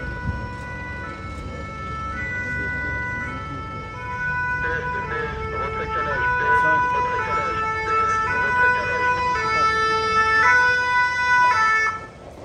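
Siren of a Paris fire brigade resuscitation ambulance at a defence exhibition, a steady two-tone wail cycling throughout over traffic rumble and crowd murmur, loud and close.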